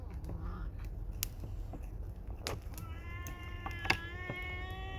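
A cat meows several times at close range, drawn-out, whiny calls in the second half, over faint kitchen clatter and background noise, while Atlantic bonito is being cooked.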